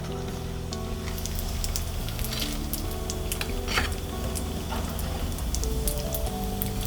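Kurkure pasta frying in hot oil in a home kitchen, giving a steady, dense crackling sizzle throughout with a low hum underneath and no talking.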